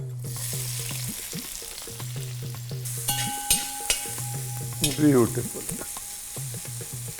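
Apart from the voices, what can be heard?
garlic and ginger frying in a pan for Kolhapuri chicken curry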